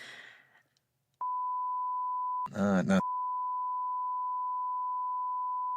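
A single long, steady electronic beep tone holds for several seconds, briefly overlapped by a short spoken word; earlier, faint talk fades out before it starts.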